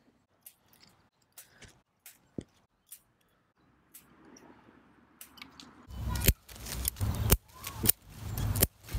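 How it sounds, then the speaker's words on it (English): Sharp, isolated scissor snips at first, then a rapid run of louder crisp cuts with rustling leaves, close by, while pruning an American hornbeam tree. "Sharp scissors help."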